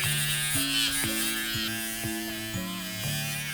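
Sintered diamond rubber wheel spinning near 7,000 RPM against a Celtra Duo dental restoration, giving a steady electric buzz with a faint stepped pitch shift as contact changes.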